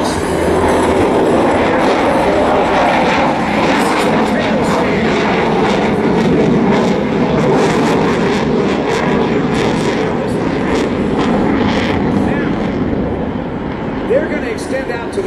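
A loud, continuous jet roar from an F-18F Super Hornet flying a demonstration at the 2012 Jones Beach Air Show, steady and broadband for the whole stretch, with commentary heard over the noise.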